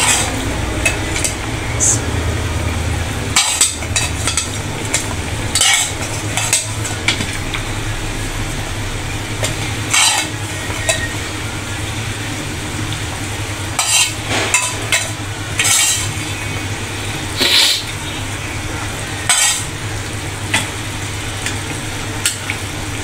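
Bata fish fry in a pan with a steady loud sizzle and hiss, punctuated by repeated sharp scraping clatters from a spatula stirring at irregular intervals throughout, with no talking.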